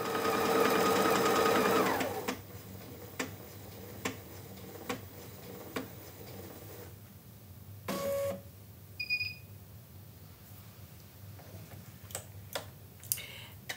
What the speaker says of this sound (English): Lower the presser foot and start the button. And this is going to cut with position number 1.